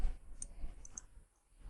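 A mouse click confirming OK in CATIA V5 part design software, heard as a few faint, sharp clicks close by in an otherwise quiet room.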